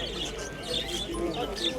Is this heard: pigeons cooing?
yes